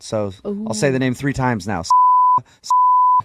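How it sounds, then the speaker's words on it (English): Someone talks on a radio show, then a steady censor tone bleeps out a caller's name twice, each flat beep lasting about half a second with a short gap between. "that was all beeped"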